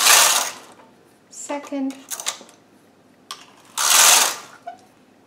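A Studio 150 Chunky knitting machine carriage swishes across the needle bed in two loud, close passes, one at the start and one near the end, with a voice speaking briefly in between.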